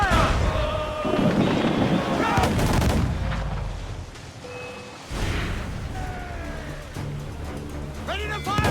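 Ship cannons in Assassin's Creed IV: Black Flag boom in heavy volleys, with a loud blast near the start and another around the middle, over shouting crew voices and battle noise.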